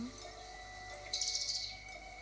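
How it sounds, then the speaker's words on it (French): Birds in a forest chirp and sing faintly, with one brighter burst of rapid high twittering midway through a quiet outdoor background. "le bruit des oiseaux."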